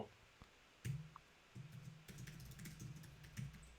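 Typing on a computer keyboard during a live coding session on web app state patterns, with brisk bursts of close, soft key clicks and a few pauses between runs.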